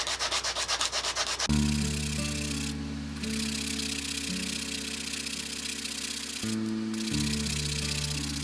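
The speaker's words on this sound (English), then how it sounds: "Now I can sand this down a lot easier." Rapid scratchy strokes of a sanding stick on wood at first, then a steady mechanical hum from lathe work with rubbing grit over it, close and loud, briefly dropping out near the end.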